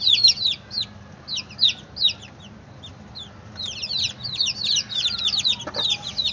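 Chicks and hens cluck and peep around a farmyard, a steady stream of high, quick chirps in irregular bursts over a low background rumble, close and fairly loud, with no talking.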